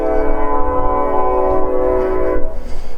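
A train horn blares in a long steady tone over low rumbling rail noise of a passing train in Kuna, Idaho, fading out near the end.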